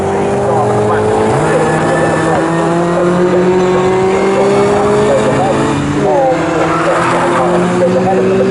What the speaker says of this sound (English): number 77, Alan Greenall at wheel of the Ford Falcon